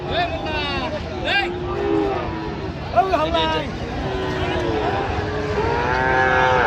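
Bull calves at a cattle market moo loudly again and again nearby, several overlapping calls, while people chatter and murmur in the background.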